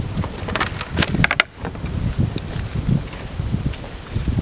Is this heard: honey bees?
yes